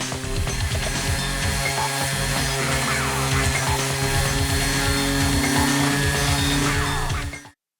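A power sander grinds loudly and continuously across an old wooden dresser, a dense rough droning buzz that holds steady for several seconds before cutting off abruptly.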